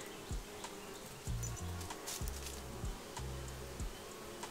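Swarming honeybees buzzing around an Australian backyard hive, a faint, steady drone with a few closer passing buzzes and soft low thumps.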